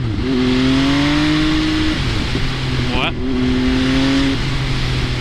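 Supermoto-style motorcycle engine revving hard under throttle, a loud steady drone that rises, drops briefly near the middle with a quick shift or blip, then climbs again, with rider talk over it.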